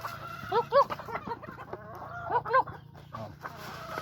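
Fighting roosters and hens, white kelso and blackwater hatch crosses, clucking close by in two short bursts of clipped, bright calls, with a low steady hum underneath.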